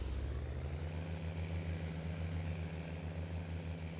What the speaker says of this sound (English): This is a 385 horsepower tractor.